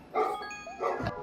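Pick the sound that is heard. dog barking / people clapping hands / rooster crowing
dog barking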